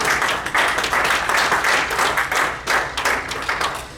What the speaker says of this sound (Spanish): ¿Cuántos le dan un aplauso al Señor Jesús en esta hora?